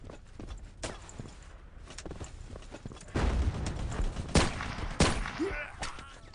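Sniper and other gunfire in the video game Battlefield 1942 on the Wake map, a few fairly faint, distant shots and thuds spread across the clip with no talking.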